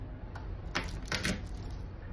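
A kitchen knife presses down on garlic cloves for a Caesar dressing: two short, crisp crunching bursts close by against a faint background hiss, with no talking.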